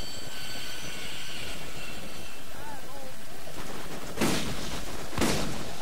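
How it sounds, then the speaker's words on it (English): Two sharp, loud gun blasts about a second apart cut through ongoing game noise in Borderlands, with players talking during the firefight. "What is this gun you're shooting?"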